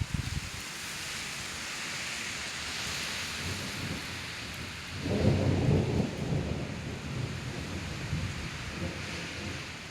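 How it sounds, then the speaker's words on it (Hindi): Thunder rolls through a heavy rainstorm on a dark, stormy morning, a low rumble that swells midway over a constant hiss of falling rain, with no talking. "बिजली कड़क रही है बहुत तेज़ से"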